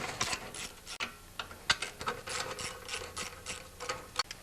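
A ratchet turning a 7/16 socket to remove nuts on a 10HP Briggs engine of a wood chipper shredder: quick, close clicking bursts in an irregular rhythm, with no voice.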